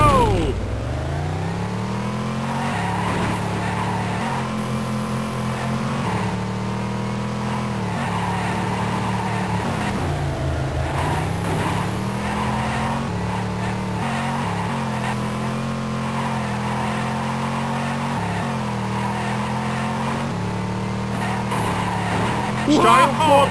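Race car engines drone and rev continuously through a round of the 1995 PC DOS game Destruction Derby, with a steady loud roar, pitch rising and dipping, and occasional tire squeals.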